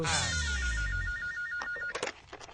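An indoor telephone rings continuously for about two seconds, then gives way to a few short clicks and knocks.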